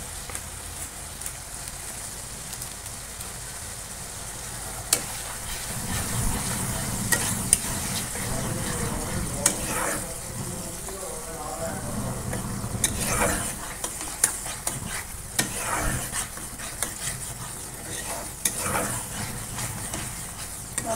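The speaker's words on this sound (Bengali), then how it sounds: "মশলাটা কষবো ভালো করে" Chili and cumin powders with ginger-garlic paste frying in a pan, stirred with a spatula in steady scraping strokes over a soft continuous sizzle, close and moderately loud, with no voices.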